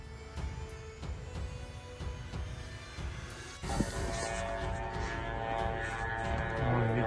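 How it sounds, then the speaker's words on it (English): A drone flying over Russia's Volgograd region during an overnight attack, a steady droning engine hum that holds through the clip and swells slightly near the end, with a sharp transient partway in. "Летит еще один дрон."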